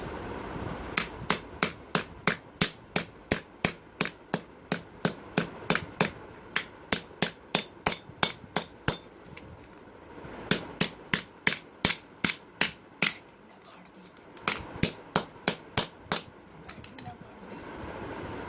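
A hammer strikes a phone screen in a durability test, landing in fast, evenly spaced sharp knocks grouped into several bursts with short pauses between them, close and loud over a quiet background.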